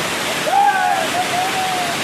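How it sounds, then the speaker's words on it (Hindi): Waterfall cascading down a mountainside, a steady broadband rush of falling water that fills the whole clip at close range, with a faint voice briefly rising over it. "वहाँ पे बहुत ही बार झरना है"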